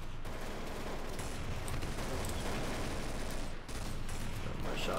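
Rapid gunfire in Gmod Zombie Survival, dense continuous shots and bursts rattling for several seconds with only a brief dip, loud and close.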